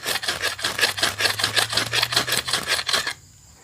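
A 90-degree knife spine scrapes pitting and corrosion off a ferrocerium rod in a rapid run of about a dozen rasping strokes, close and loud, then stops.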